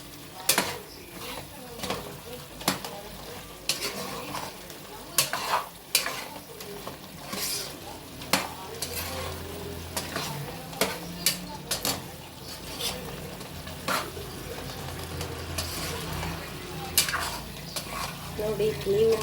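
Chicken being stirred with tomato and spice masala in a pan, repeated scraping strokes of a spoon against the metal over a continuous sizzle, with a person talking at times.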